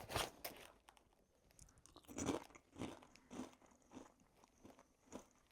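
Someone crunching on spicy dill pickles, close and quiet, with several sharp bites followed by wet, crackly chewing in an uneven rhythm.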